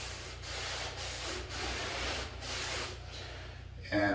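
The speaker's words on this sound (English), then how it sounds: "I'm going to go with a dark walnut. It's a semi-transparent stain. I'm just going to rub it on." Cloth rubbing dark walnut semi-transparent stain onto wood for a homemade craps table, a close, steady swishing with rhythmic strokes roughly every half second, ending in a brief different rustle.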